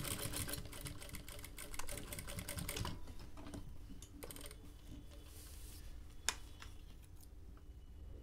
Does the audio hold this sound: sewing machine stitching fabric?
yes